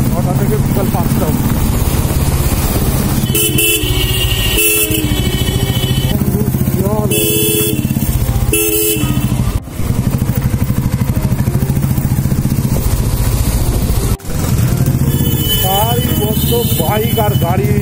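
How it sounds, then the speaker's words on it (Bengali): Motorcycles and cars queue at a signal on a busy road near Thakurpukur Bazar metro in Behala, Kolkata, engines idling and rumbling steadily up close, with short bright horn-like bursts recurring through the traffic and voices talking over it. "বাইক আর গাড়ির লাইন"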